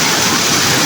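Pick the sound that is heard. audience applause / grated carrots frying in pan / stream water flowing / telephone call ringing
stream water flowing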